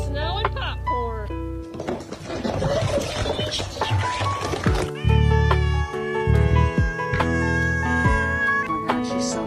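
A house cat meows repeatedly, with several clear mewing calls mixed in with people talking and laughing, plus some clatter and rustling in the background.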